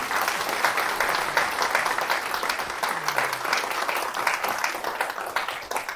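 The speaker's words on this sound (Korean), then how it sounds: "박수로 맞아주시겠어요?" A lecture audience claps to welcome a Buddhist monk guest at a unification lecture, a sustained wash of many hands at moderate loudness that stays fairly even, with a faint murmur underneath.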